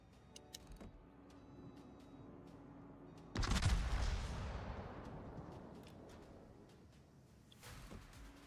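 A warship's guns fire at an enemy ship in World of Warships, one loud booming salvo that rolls away into a long fading rumble, with faint clicks before and after.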